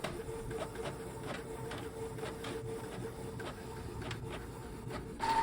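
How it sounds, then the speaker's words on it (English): A Canon PIXMA TR4720 printer runs steadily as it prints the second side of a page, a continuous mechanical whir with light rhythmic ticks and clicks from the paper feed, close and alone. "Sometimes it takes a few seconds before it starts printing again."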